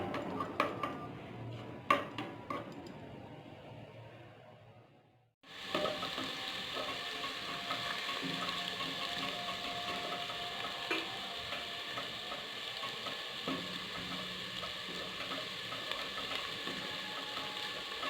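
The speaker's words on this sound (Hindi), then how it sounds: "हल्की हल्की आंच पर हम इसको भून लेंगे, गोल्डन ब्राउन कर लेंगे।" Onion or masala frying on low heat in a pan for a daal chawal recipe, a steady soft sizzle running through most of the clip after a few clinks of utensils and a brief quiet gap.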